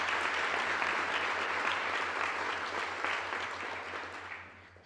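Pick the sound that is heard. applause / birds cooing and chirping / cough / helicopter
applause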